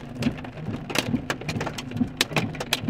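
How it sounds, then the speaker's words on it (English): Hail pelting down during a monsoon storm in Sedona, a dense, steady patter of sharp hits with a few louder, nearby impacts, and no voices. "Okay, the hail's getting bigger now."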